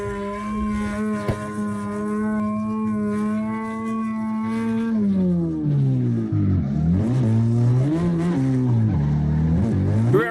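A Toyota Supra drifting in the CarX Drift Racing Online video game, its engine droning steadily and then wailing up and down in pitch as the revs swing through the slide, loud and with no talk.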